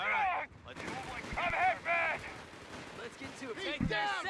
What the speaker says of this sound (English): Just going to be shooting out the MG at it.